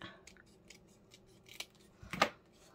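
Scissors cutting paper strips for a lapbook, a few close, quiet snips with a louder crisp cut near the end, and no talking.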